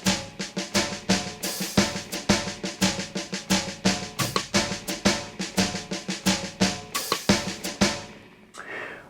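Sequenced drum beat with snare, open hi-hat and floor tom in a syncopated New Orleans-style groove, loud, steady and up close, with no talking, ending on a final hit.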